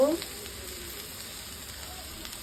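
Leaves tossed into chicken frying in a pan for vegetable buttery chicken, producing a brief burst at the start that settles into a steady, close, even sizzle.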